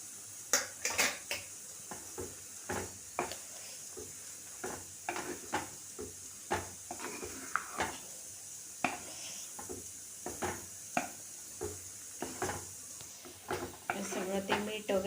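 Bharangi leaf vegetable stirred into cooked dal in a pan, with repeated scraping and clinking of a spoon against the metal pan over a faint sizzle, while someone talks throughout.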